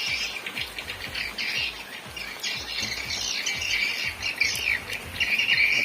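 Swiftlets calling inside a swiftlet house, a dense, continuous chorus of high chirping squawks with many overlapping birds, steady and fairly loud throughout.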